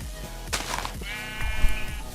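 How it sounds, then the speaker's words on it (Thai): A sheep in Minecraft gives a close, wavering bleat that rises clearly over the game's background sounds. "ตอนนี้ไงผมเจอแกะอีกตัวนึงแล้วเนี่ย"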